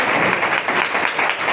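An audience claps loudly and steadily to welcome a little girl, the dense applause lasting throughout with no speech over it.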